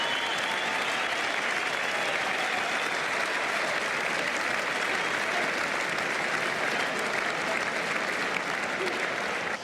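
Raucous applause from a cricket crowd at the Gabba Test ground as a batsman leaves the field, dense sustained clapping that fills the whole stretch without a break.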